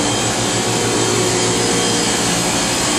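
A rebuilt IQDP-80 vacuum pump on a Plasmatherm SLR-770 DRIE etch system runs with a loud, steady broadband roar and a low mechanical hum, unchanging throughout.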